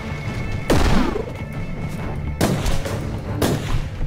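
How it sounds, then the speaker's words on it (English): Aimed-shot gunfire from the video game Warhammer 40,000: Inquisitor - Martyr: three loud, booming shots with sweeping ringing tails over a steady rumbling game background. "What I like most about the aim shot is the knockback of the gun."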